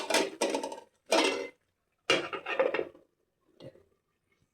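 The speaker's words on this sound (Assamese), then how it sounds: "এতিয়া মই ঢাকনি মাৰি দিম।" Metal lids and pots on a gas stove while broiler chicken cooks: a few loud, close clanks and rattles in separated bursts, then a softer clink, with quiet gaps between.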